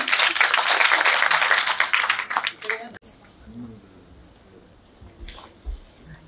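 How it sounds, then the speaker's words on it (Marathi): Audience applause at an award ceremony honouring a grandmother who is a woman entrepreneur, a dense burst of clapping that fills the first few seconds, then thins out and gives way to a quiet room with scattered noise. "जोरदार टाळ्या वाजवायच्या आजीसाठी."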